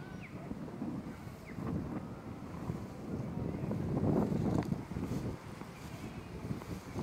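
Strong wind buffets the microphone on a goat and sheep farm in western Jamaica, a continuous low rumbling roar that swells and eases over several seconds without any talk.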